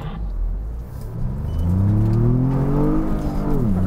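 A Ford Bronco engine accelerating hard off the line at the start of a timed lap, a loud close rumble rising steadily in pitch, then a quick dip as it shifts and climbs again.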